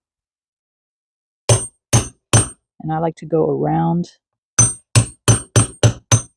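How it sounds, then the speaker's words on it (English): A hammer drives a grommet into a hole, giving sharp metallic taps, three spaced strikes, then a short spoken phrase, then six quicker evenly paced blows, close and loud. "And then you're going to hammer."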